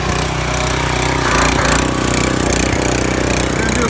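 A Duromax 3100 psi gas pressure washer engine runs steadily at close range, a loud continuous mechanical drone with a low throbbing hum and no pauses.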